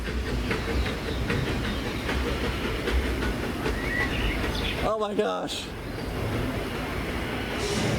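Disneyland Railroad steam train rolling past at an amusement park, a steady rumble with faint clickety-clack and a brief whistle-like burst midway, while a person speaks nearby.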